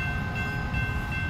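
A half-mile-long freight train rolls past in a modded trucking video game, a steady loud rumble with a low roar and faint high tonal whine that holds throughout, with no voices.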